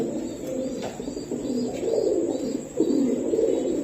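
Pigeons at a market stall coo in soft, low, continuous rolling calls, several birds overlapping at close range with a few faint chirps.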